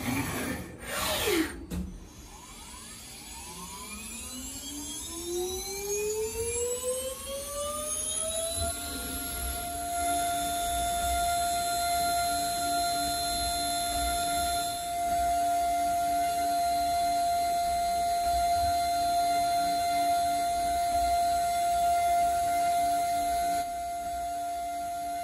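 A CNC jewelry milling machine cuts a ring model with a 0.50 mm line tool. The spindle whine rises over several seconds, then holds one steady, loud high-pitched tone with constant cutting noise, and no voices.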